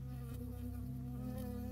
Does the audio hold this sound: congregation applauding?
no